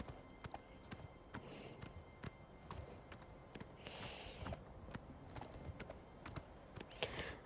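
Horse hooves clip-clop in the video game Oblivion Remastered, a quiet, irregular run of sharp clicks from several slow-walking horses, with faint background ambience and no talk.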